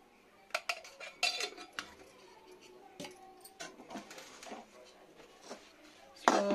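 A spoon clinks and scrapes against a metal bowl while flattened rice and peanut laddoo mixture with ghee is stirred, irregular close knocks and rattles with a sharper clatter near the end.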